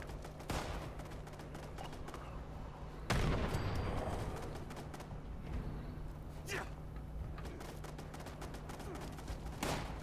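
Automated turret gunfire in Fallout 76, rapid volleys with a heavy loud burst midway, continuing over a steady hum of background noise, with occasional voice in between.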